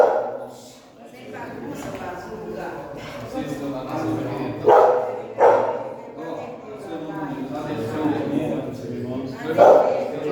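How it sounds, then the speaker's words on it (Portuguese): A dog barking during a church service, several loud, sharp barks spread across the clip under someone speaking continuously. "O cachorro vem e o povo não quer vir."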